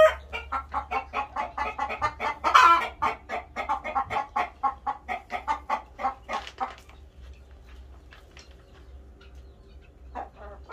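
A broody hen near her nest clucks repeatedly in a quick, rhythmic run of short calls close by, trailing off into quieter scattered clucks and faint background noise.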